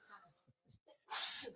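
A single sharp sneeze bursts out near the end, preceded by a few quiet breaths and soft vocal sounds.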